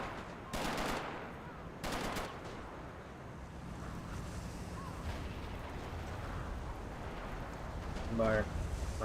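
Automatic rifle fire from a BAR in a Company of Heroes mod battle, with two sharp, loud bursts near the start amid a constant rumbling battlefield backdrop of distant gunfire and explosions, and a voice talking underneath.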